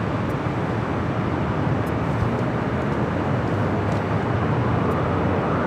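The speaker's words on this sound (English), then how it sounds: "Next arrival is that Delta Heavy 767-300ER coming from Atlanta, flight 301." A Delta Boeing 767-300ER heavy arriving at LAX, a loud, steady broadband jet roar with low rumble that holds throughout, without talk.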